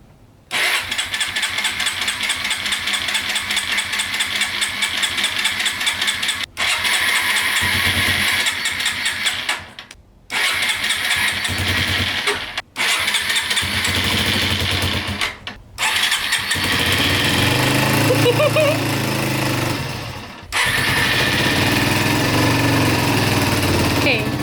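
An old 125cc motorcycle engine cranks and catches with choke on, then runs at a loud, steady, buzzing idle close by, briefly cutting out and restarting a few times.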